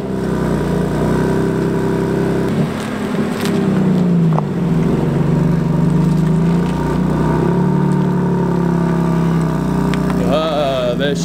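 A BMW M2 Competition's engine idles and creeps forward onto a wheel-alignment ramp in a workshop, a steady loud low-pitched rumble with a brief rise in revs near the end.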